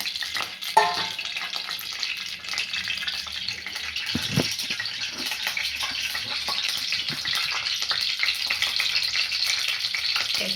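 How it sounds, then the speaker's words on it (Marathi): Cumin and mixed spices fry in a pan with a steady, bright sizzle, with occasional scraping and a sharp clack as they are stirred, and no talking. "बघा, छान फ्राय झालं आहे."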